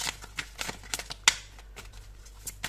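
Tarot cards being shuffled and handled during a reading, a series of soft papery flicks and riffles with one sharper snap, close and quiet, with no voice over them.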